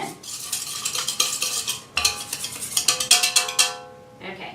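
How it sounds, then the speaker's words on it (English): Orange fudge mixture is whisked briskly in a bowl, a rapid series of close metallic clinks and scrapes in bursts with a brief pause partway, ending with a final lighter tap. "let's whisk this all together"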